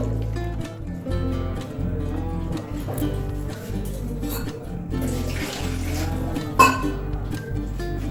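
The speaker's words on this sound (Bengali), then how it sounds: "এবার আমি এই নুডলসটা ছেঁকে নেব।" Noodles for chicken thukpa are strained and rinsed under water, a steady close rush of pouring and running water with one sharp metallic clink near the end.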